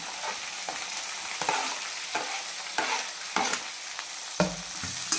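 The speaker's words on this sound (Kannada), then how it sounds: "ಆಮೇಲೆ ಕೊತ್ತಂಬರಿ ಹಾಕೋರಿ, ಆಮೇಲೆ ಕರಿಬೇವು ಹಾಕೋರಿ, ಆಮೇಲೆ ಮೆಣಸಿನ್ಕಾಯಿ, ಆಮೇಲೆ ಉಳ್ಳಾಗಡ್ಡೆ ಹಾಕೋರಿ" Coriander, curry leaves, green chillies and onion frying in oil in a pan for masala dosa filling, a steady close sizzle with repeated scraping stirs at regular intervals, no voices.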